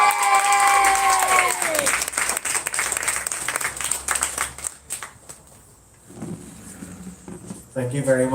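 Guests at a wedding reception clap for a singer, a dense burst of applause with some cheering that rises as her sustained final note ends, then thins out, with voices talking near the end.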